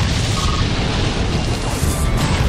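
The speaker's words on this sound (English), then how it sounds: "Annihilated by explosion!" A Pokémon's Explosion move goes off in a Pokémon Battle Revolution battle: a loud, sustained, roaring blast of broadband noise filling the whole clip.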